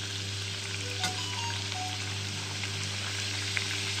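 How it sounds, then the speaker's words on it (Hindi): Wheat flour masala papdi fries in oil over a low flame, giving a soft, steady sizzle with light crackles and an occasional faint clink, quiet and even throughout. "इसे धीमी आंच में ही सेकना है।"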